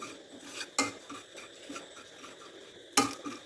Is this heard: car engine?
no